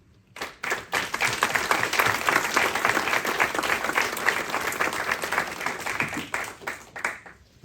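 An audience applauds local elected officials at a New Year's greetings ceremony, a dense, steady round of clapping that swells quickly, holds for several seconds and tapers off near the end.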